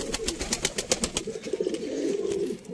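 A pigeon coos in a low, throaty warble nearby, preceded by a quick series of sharp flutters or clicks that fade as the cooing carries on alone.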